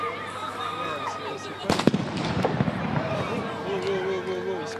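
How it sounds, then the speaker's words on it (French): Large firecrackers go off in a stadium crowd during a women's football match between Paris Saint-Germain and Stade de Reims, a cluster of sharp loud bangs and pops over crowd noise and commentary voices. "Un gros pétard, mais c'est un pétard"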